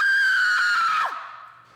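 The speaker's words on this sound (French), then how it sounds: "C'est drôle de crier." A person screams into a device to make a stylus made of straw vibrate: one sustained, loud, high-pitched scream lasting about a second, which breaks off and then fades out.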